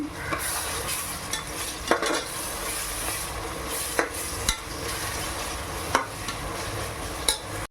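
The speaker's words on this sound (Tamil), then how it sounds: "இப்போ 100 கிராம் இஞ்சி பூண்டு விழுது, அதை இதில் போட்டுக்கலாம். நல்லா பச்சை வாசனை போகிற வரைக்கும் வதக்கலாம்." Ginger garlic paste fries with onions in a hot pan for biryani curry, a constant loud sizzle broken by sharp metallic clanks of a spoon against the pan every second or two, with no voices.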